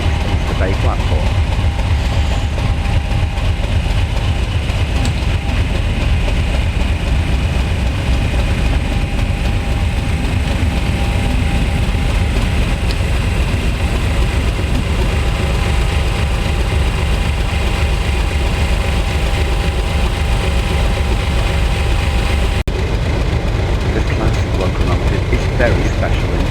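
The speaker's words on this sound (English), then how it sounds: "Class 50 comes out of platform 2, makes its way back down the curve" A Class 50 diesel locomotive pulls out of a station platform and rounds a curve, its engine throbbing loudly and steadily throughout, close by, with a voice talking over it.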